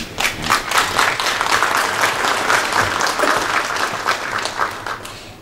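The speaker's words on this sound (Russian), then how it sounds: "Спасибо, это правильный аплодисмент" Loud, sustained applause from a congress audience in a hall, many hands clapping densely together with slight swells and no talking over it.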